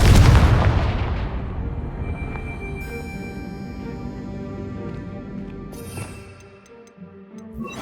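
A Confringo spell explosion in Hogwarts Legacy, a single loud booming blast that rolls off into a long fading ringing tail, with faint ticking and chiming game effects as it dies away.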